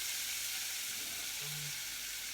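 Broccoli florets tumble into onions frying in a soup pot, producing a steady, loud hiss of sizzling with a brief stirring scrape in the middle.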